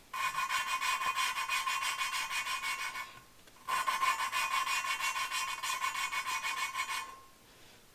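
An engine valve is lapped back and forth against its seat, making a steady gritty rasping scrape in two long strokes with a brief pause between them, close and clear.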